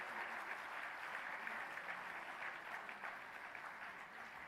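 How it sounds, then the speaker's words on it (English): Audience applause at an architecture festival held at India Stonemart in Jaipur, a steady wash of many hands clapping at even volume from a distance throughout, with no voices. "Let's give a huge round of applause to whoever is sitting here."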